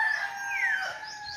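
A rooster among chickens crowing once, a single drawn-out call heard at moderate distance and fairly clear over faint background.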